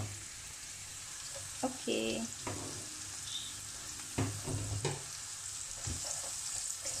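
Onion and garlic frying together in a pan for a seafood tagliatelle pasta, a steady sizzle with scattered stirring clinks, while a person speaks briefly now and then.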